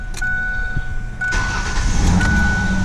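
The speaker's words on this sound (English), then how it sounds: "You're gonna crank it up, let it run for a little while" A Ford 4.0 engine with an erratic idle and hard cold start cranks briefly, then catches and settles into a close, rough idle with a low rumble.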